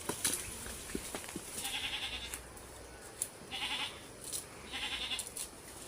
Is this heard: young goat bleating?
yes